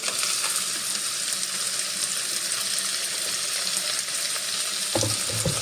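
Chopped onion sautéing in a pan of hot oil for upma, a steady close sizzle with light stirring scrapes, and a louder burst of frying near the end.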